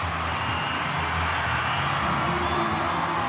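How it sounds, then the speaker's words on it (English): A rugby match crowd roars and cheers after a try is scored, a dense, sustained wall of noise at full volume with no single voice standing out. "The crowd likes it."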